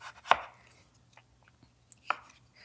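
A knife slicing a potato into 1/8-inch slices for a fine dice, giving a few sharp, separate chops on the board with quiet gaps between them, close and clear.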